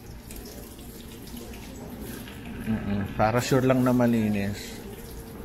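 Tap water runs steadily during a surgical hand scrub in an operating room setting, a constant hiss under a person speaking in Filipino.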